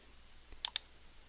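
Two quick, crisp mouse clicks close together, faint and close-up in a quiet room.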